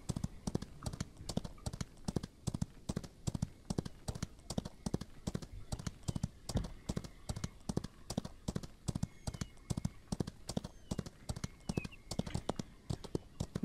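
Horse hooves clip-clop in the western video game Outlaws of the Old West, a brisk, even rhythm of hollow knocks continuing for over ten seconds, faint and unaccompanied by talk.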